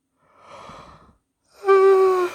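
A tired person yawns close to the microphone: a soft breathy intake first, then a brief pause, then a louder, drawn-out voiced exhale that trails off.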